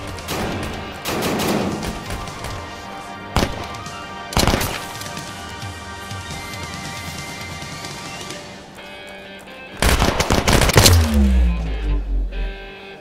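Video-game gunfire from Halo: Reach, with several loud sharp bursts of shots and impacts over a continuous music and effects bed, the heaviest cluster of shots arriving near the end.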